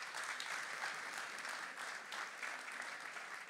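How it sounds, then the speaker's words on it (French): Applause from a conference audience at a church gathering, a soft, steady wash of many hands clapping heard from a distance, continuous and fairly quiet throughout. "On peut l'applaudir encore une fois."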